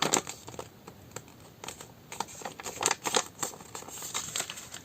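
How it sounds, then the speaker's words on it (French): Vellum paper is handled and folded while a traveler's notebook is assembled by hand: soft, close crinkling and rustling with small irregular taps, quiet and without speech. "Donc je prends mon papier vélum."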